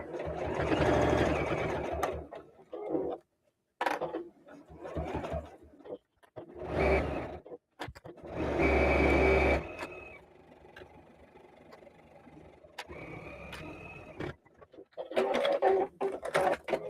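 Sewing machine stitching around the edge of a fabric rotary cutter sleeve, running in several bursts of steady whirring separated by short pauses and slower stretches, close and fairly loud.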